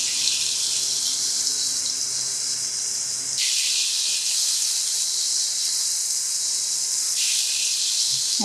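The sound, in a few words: chicken frying in a pan with cooking oil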